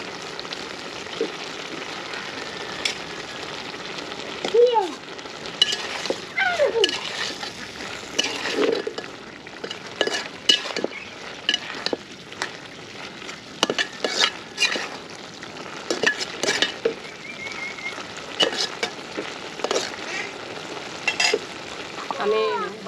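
Thankuni leaves stirred into softened potatoes frying in a pan, with a steady sizzle, repeated scraping and clattering of the spoon, and irregular bursts of louder stirring.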